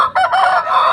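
A Bangkok-type gamecock crows once at close range, a loud, strained, ragged call lasting about a second, with no other sounds around it.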